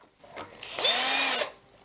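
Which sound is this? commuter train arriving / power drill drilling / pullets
power drill drilling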